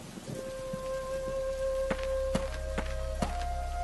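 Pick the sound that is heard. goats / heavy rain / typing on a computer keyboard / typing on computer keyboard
heavy rain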